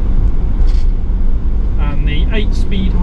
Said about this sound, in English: The engine is very quiet.